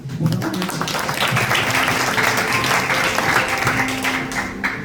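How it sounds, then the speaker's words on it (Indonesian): A room full of people at a church fellowship meeting claps together, a dense patter of applause that holds steady for several seconds before tapering slightly. "Boleh tepuk tangan."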